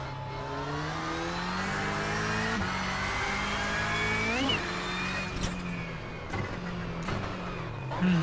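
Subaru race car on the Mt Washington hill climb, its engine loud and close as it revs and shifts through several gears, with a brief squeal and rising whine near the middle.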